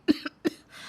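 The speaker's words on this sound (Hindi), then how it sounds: "आपको बड़ी खांसी आ रही है।" A man coughs twice, short and close, two quick harsh bursts with a brief pause between them and a soft breathy tail.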